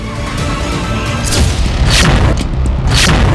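Explosions from an Israeli drone strike on an Iranian airbase where explosives and ballistic missiles were stored, a loud, continuous rumbling roar with several heavier booming bursts rising through it.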